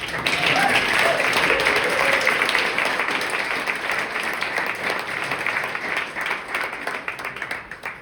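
An audience at a book launch and discussion event gives sustained applause, a dense, steady clapping that fills the room and slowly tapers off.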